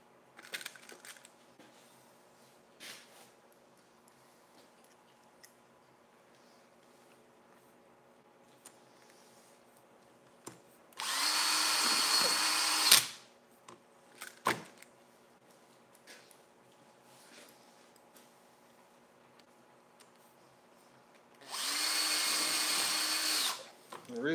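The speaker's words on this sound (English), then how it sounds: "The reason I'm putting lots of screws in the bottom" A power drill drives screws into the bottom of an outdoor duck water structure in two steady whirring bursts of about two seconds each, separated by a quieter stretch of light knocks and handling noise.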